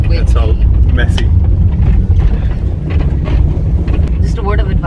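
Strong wind buffets the microphone on the open deck of a Blue Star Ferries ship between Athens and Mykonos, a loud continuous rumbling roar with brief voices heard over it.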